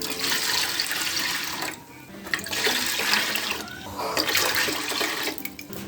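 Water poured onto two cups of rice in a home kitchen: three bursts of splashing, gurgling flow separated by short pauses, close and moderately loud.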